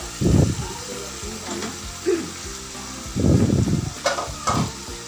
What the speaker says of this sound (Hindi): और टमाटर जब तक नरम होंगे उस वक्त तक हम इसको भूनेंगे।